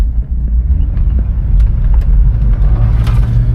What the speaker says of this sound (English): super aggressive tires, so you do expect some type of road noise from the tires